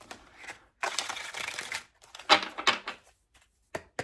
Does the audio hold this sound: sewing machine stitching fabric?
no